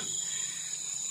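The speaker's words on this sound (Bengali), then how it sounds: "পুরোই অন্ধকার, চারপাশে ঝিঝি ডাকছে" Crickets chirp in a dark, dense forest at night near Chalsa by Gorumara, a continuous high, shrill trill that stays steady and fairly faint throughout.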